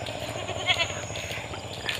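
A goat bleats a few times at moderate distance over a quiet outdoor background, with no one speaking.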